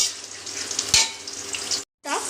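Pre-fried chicken pieces go into a hot pan for Bengali chicken kosha, setting off a steady, close sizzle with a brief clatter partway through and a short dropout before the frying resumes.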